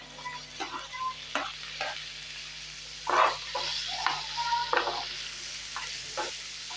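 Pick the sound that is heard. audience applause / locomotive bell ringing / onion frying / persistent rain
onion frying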